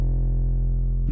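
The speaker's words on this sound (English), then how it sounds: "A nice, distorted, super sexy Moombahton 808." A distorted Moombahton 808 bass, built in FL Studio with a filter preset that cuts the highs: a heavy, saturated low note held steady and loud for about a second, with a brief bright burst at its end.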